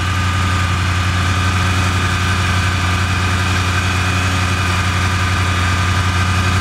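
A 3-liter V8 car engine idles loudly and steadily up close, a deep, even rumble with a constant throb throughout, smoke trailing from the exhaust.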